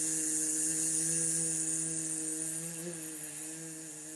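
A steady humming exhale during a breathing exercise, a low sustained hum with even overtones held for several seconds and slowly fading, heard alone without talk.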